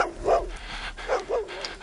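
A dog barks in a tense scene from the 2002 werewolf horror film Dog Soldiers, three or four close, loud barks in quick succession with no talk over them.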